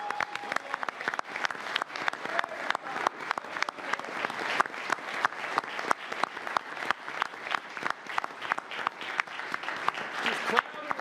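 A city commission meeting room breaks into sustained applause welcoming the Tallahassee Fire Department, steady clapping from a modest crowd with occasional voices underneath.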